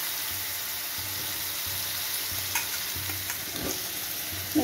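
Young jackfruit and potato sizzle steadily in hot oil in a pan. A spoon stirs them in regular scraping strokes under a constant background hiss.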